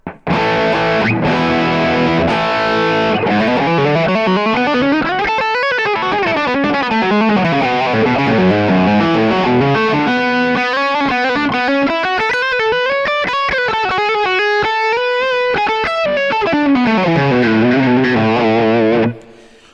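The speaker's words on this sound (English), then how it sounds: "this one is a Plexi style amp, and again, this is like my overdrive distortion amp" Loud, heavily overdriven electric guitar through a Plexi-style amp profile on a Kemper Profiler Player, playing sustained chords and bending lead lines, thick and saturated with a slight chorus shimmer, continuous with no talking.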